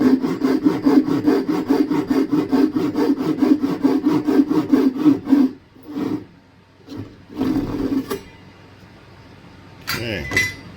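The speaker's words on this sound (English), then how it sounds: "I really like this saw." A hand saw cutting wood for a dovetail joint: a steady run of rapid rasping back-and-forth strokes, close and loud, then a pause, a few shorter strokes and a light clink near the end.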